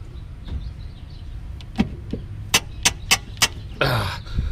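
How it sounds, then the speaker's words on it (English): Rear suspension of a 1998 Mercedes S500 squeaking in a run of sharp, evenly spaced squeals close by, ending in a longer creak, with quiet rustling in between. "That squeaking that you hear."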